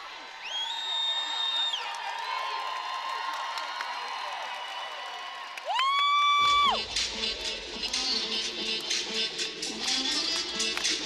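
An arena crowd at a gymnastics meet cheers steadily for a gymnast getting set, a continuous roar of voices with whoops, swelling louder near the end; tonal electronic sounds cut in partway through.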